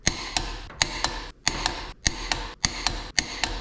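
A wrench ratchets on the flywheel bolts of a Datsun 510, giving sharp, close metallic clicks in a steady rhythm of paired ticks with short pauses between strokes.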